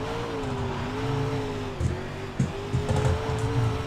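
A dirt race car in the iRacing sim drones steadily under throttle, its engine pitch wavering as the driver feathers the pedal. Short bumps and knocks break in near the end, with no talk over it.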